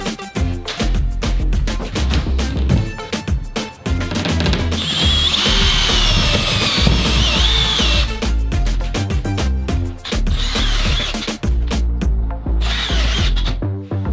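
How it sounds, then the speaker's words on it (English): Power drill boring a hole through an Airstream trailer's subfloor and steel C-channel during renovation, a loud close grinding whir that bogs and surges repeatedly, with brief pauses between bursts. "we just drilled the hole through the floor, through the C-channel"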